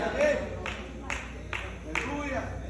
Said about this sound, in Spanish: Dan fuerte aplauso a Dios.